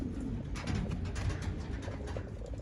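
Racing pigeons coo on a rooftop loft, a dense, close chorus of low throaty calls overlapping continuously with no talking.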